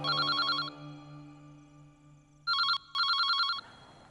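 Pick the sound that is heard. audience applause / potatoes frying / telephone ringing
telephone ringing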